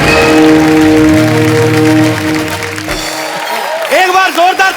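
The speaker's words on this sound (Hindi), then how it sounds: "एक बार जोरदार तालियां मिस्टर शाहरुख खान एंड आलिया भट्ट के लिए।" A studio audience on a Hindi comedy show applauds for Shah Rukh Khan and Alia Bhatt, a loud burst of clapping mixed with music and cheering that cuts off abruptly, followed by a few voice fragments.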